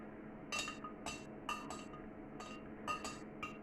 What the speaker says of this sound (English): Give that a proper stir.